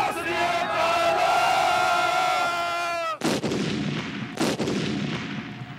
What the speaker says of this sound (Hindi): फतेह मियां, आप तोपे संभालिए